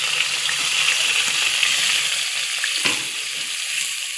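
Thinly sliced onions and green chillies fry in a pan with salt for a mushroom dum biryani, giving a close, continuous crackling sizzle with one short stirring knock partway through.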